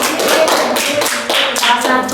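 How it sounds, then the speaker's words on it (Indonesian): Classroom applause during a sociology lesson, a short burst of hand clapping from students lasting about two seconds, fairly loud and close, with no talking over it. "Kita kasih tepuk tangan"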